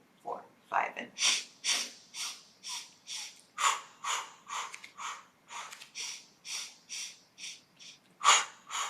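Rhythmic breathing in and out during a Pilates exercise, close and breathy, with about twenty quick, evenly paced puffs and gasps in a steady pumping rhythm.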